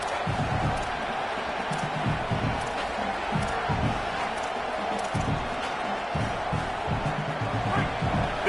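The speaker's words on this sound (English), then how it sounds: "This crowd bringing the energy and noise early" A college football stadium crowd roars early in a game, a broad, distant rumble of cheering and shouting with scattered whoops and thumps, and a commentator's voice comes through faintly.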